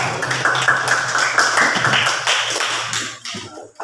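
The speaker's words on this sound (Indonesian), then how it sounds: "Itu tadi kelompok 2, silakan tepuk tangan dulu untuk kelompok 2." Group 2 gets clapping from a classroom of students, with dense hand claps and taps ringing out steadily for a few seconds before thinning out and stopping.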